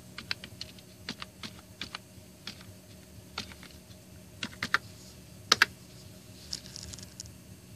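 Fingers type on a computer keyboard in a quiet room: irregular, crisp key clicks, a few close together and some louder, with short pauses between bursts.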